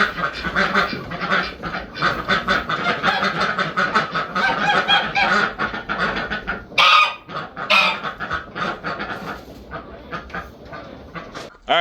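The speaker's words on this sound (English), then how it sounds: "Big, beautiful goose." A flock of large white farm geese and ducks honk and quack loudly and continuously at close range, overlapping calls with a brief lull midway, and a dog bark mixed in.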